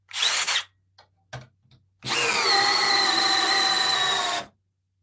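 A Milwaukee M12 compact drill set to drill mode with no clutch gives a few short, sharp trigger blips, then spins up into a steady, loud whir for about two and a half seconds before stopping.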